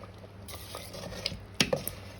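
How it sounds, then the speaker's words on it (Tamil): A spoon stirs a traditional South Indian mashed rice dish in a pot, making soft scraping and stirring sounds with a few sharp clicks of metal against the vessel near the end, close by and quiet with no talking. "அப்படியே கலந்து விடுவோம்"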